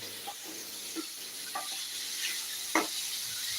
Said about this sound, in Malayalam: നമുക്കത് നന്നായിട്ടൊന്ന് ഇളക്കി കൊടുക്കണം